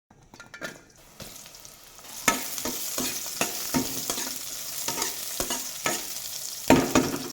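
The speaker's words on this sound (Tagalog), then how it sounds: "Nagpainit muna ng mantika, sabay igisa yung sibuyas bawang" Onion and garlic sauté in hot cooking oil in a pan, a steady sizzle broken by repeated scraping stirs, close and fairly loud, with no talking.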